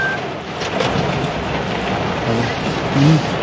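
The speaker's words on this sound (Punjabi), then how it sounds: "ਸਾਡੇ ਵੀ ਸ਼ੁਰੂ ਹੋ ਗਈ ਬਾਰਿਸ਼" Steady rain falling in Nawanshahr, a dense continuous hiss with faint patter, fairly close and unbroken throughout.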